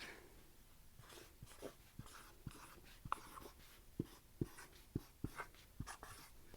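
Pen or pencil writing by hand on paper in a quiet room, soft scratchy strokes with a series of small taps and scrapes repeating in an irregular rhythm, close and faint.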